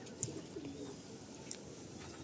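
Pigeons coo softly at a rooftop loft in Howrah, faint and low in a quiet setting, with a couple of brief sharper bird sounds.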